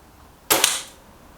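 A Reximex Zone air rifle fires a pellet: one sharp, close crack followed by a brief hissing decay, with near silence around it.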